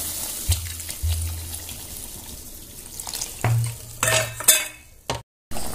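Water is poured into a simmering magur catfish curry with potatoes, a Odia-style jhola, with stirring and splashing bursts over a low bubbling pan, fairly close and without talk.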